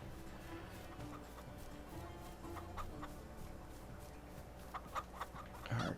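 Chickens cluck in the farm game Farming Simulator 22, a few soft scattered clucks over a low steady ambient background with rain, faint and somewhat distant.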